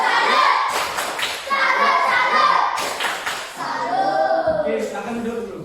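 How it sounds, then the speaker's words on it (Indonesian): Children in a classroom clap a rhythmic 'tepuk salut' routine in bursts, their young voices chanting along and nearby. "Kita kasih tepuk salut"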